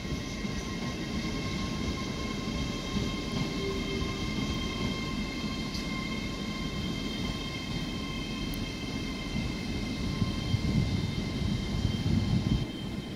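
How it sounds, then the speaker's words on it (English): An LNER train rolls into Doncaster station on the East Coast Main Line, giving a steady, close, unbroken rumble of wheels and carriages with a constant high whine above it and no voices. "London North Eastern Railway arriving there at Doncaster Station"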